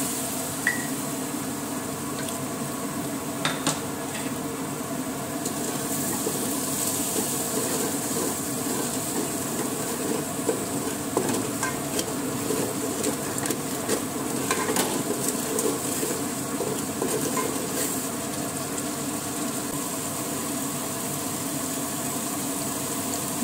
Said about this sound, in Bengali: এবার লবণ হলুদ দিয়ে 2-4 বার নাড়াচাড়া করে আমি কিছুটা জল দিয়ে দিলাম।